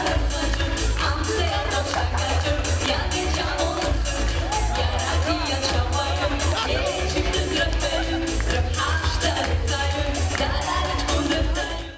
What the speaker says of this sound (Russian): Зрители ликовали, сопровождая каждое выступление бурными овациями